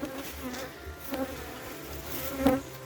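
Honeybees hum around three hive colonies at an apiary, a soft, steady drone with a few louder passes as single bees fly close to the microphone.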